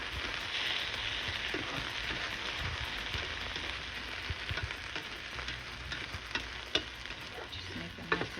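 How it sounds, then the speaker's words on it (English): Spanish rice being stirred and mixed in a hot pan, a steady sizzling hiss with scraping spoon strokes and occasional sharper knocks, close and continuous with no talking. "So now we just mix this all up."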